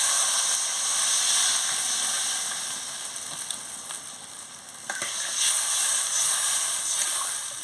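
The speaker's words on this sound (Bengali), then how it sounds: "এবার একটু জল দিয়ে দিচ্ছি" Water hits spices in a hot pan for a Bengali singhi fish curry. A loud steady sizzle and hiss fade slightly midway and then surge again with some stirring scrapes.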